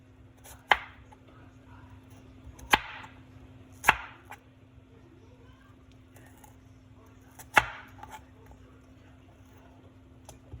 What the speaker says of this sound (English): I'm gonna cut this onion.